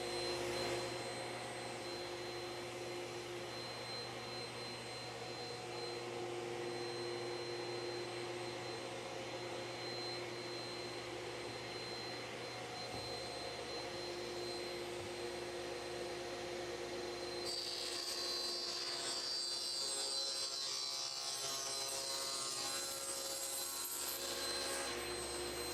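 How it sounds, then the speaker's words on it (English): A power saw fitted with a brand-new high tooth count blade cuts a sheet in half: a loud, steady motor roar runs throughout and turns harsher and brighter in the last third as the blade bites, with no talking. "we'll fire up the saw and cut this sheet in half"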